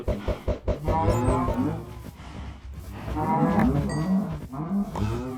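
Enchanted golden apple cows in a Minecraft lucky block arena, a herd mooing repeatedly in overlapping low calls, loud and close.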